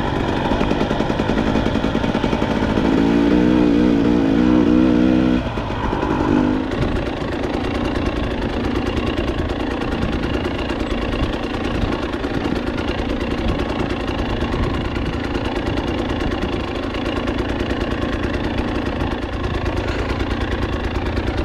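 Dirt motorcycle engine on a single-track trail, a loud continuous rumble that holds a rough rev for the first few seconds, then settles into a steady chugging idle with no talk.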